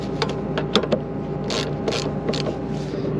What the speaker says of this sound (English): All right, all it is, the bolts are backed off, so we'll tighten them up real quick.